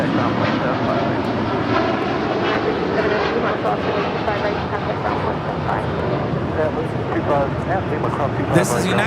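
Boeing 787-9 Dreamliner of United Airlines departing LAX, a steady loud jet roar filling the whole span, with voices talking over it.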